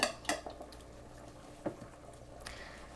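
A spoon works thick dumpling dough in a bowl, giving a few clinks and scrapes against the bowl at the start, then softer, sticky squishing sounds.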